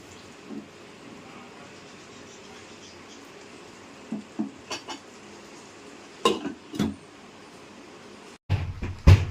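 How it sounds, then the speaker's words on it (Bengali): Paneer and potato curry stirred briefly in a pan, then a few sharp clanks of a spoon and a lid set down on the pan near the end, close against a low steady kitchen background. "এবার একটু নেড়ে চেড়ে ঢাকনা লাগিয়ে দেব।"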